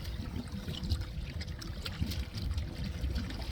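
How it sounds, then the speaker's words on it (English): Choppy waves on open water lap and slosh close by for a few seconds, a continuous churning, trickling wash with no talking. "thought I'd show you these crazy waves"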